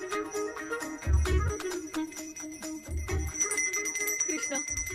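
A bell rings alone in a room, its bright, sustained tones repeating in uneven strokes, with heavy low thuds landing twice among the chimes.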